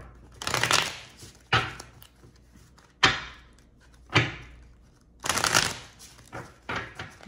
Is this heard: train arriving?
no